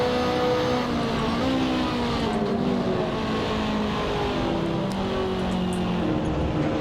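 A GT1 race car engine in the Assetto Corsa racing game drones steadily and loudly throughout, a continuous roar with shifting harmonic tones and no break in the sound.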